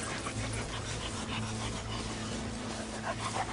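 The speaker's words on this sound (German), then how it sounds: "setzten wir Spürhunde ein, die speziell auf den Geruch von Kadavern abgerichtet sind" Sniffer dogs trained on cadaver scent search a site, panting rapidly and steadily up close, with faint whimpers and soft rustling around them.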